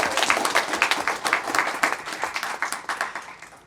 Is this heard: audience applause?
yes